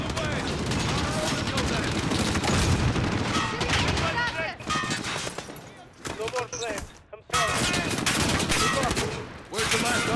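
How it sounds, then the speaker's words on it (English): Heavy gunfire roars in Call of Duty: Modern Warfare (2019), a dense, loud fusillade of machine-gun bursts and blasts with brief lulls, while voices talk over the combat. "Okay, that's a lot of bullets."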